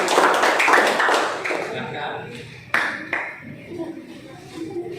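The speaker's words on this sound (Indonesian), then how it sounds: "Beri aplaus untuk presentasi kelompok." Applause from a classroom audience after a group presentation, a burst of many hands clapping that fades over about two seconds, followed by scattered taps and a teacher's voice talking.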